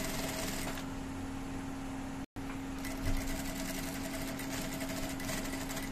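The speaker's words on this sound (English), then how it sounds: "As you can see, while sewing, you'll be dragging the" Sewing machine stitching boxer shorts as elastic is dragged through, a steady close whirring drone with a brief stop midway before the motor resumes.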